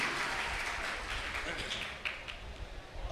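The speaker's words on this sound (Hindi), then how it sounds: "ज़ोरदार तालियों से इस्तकबाल कीजिए।" Applause from a mushaira poetry gathering audience, a dense patter of clapping that slowly thins out over a few seconds.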